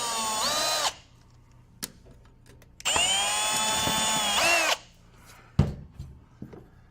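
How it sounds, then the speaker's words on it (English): Two long bursts of a power drill whining at steady speed while drilling a pilot hole in the metal side of a fixture, separated by a short pause, with a few clunks and taps afterward. "I strongly recommend drilling a pilot hole in the side of the fixture."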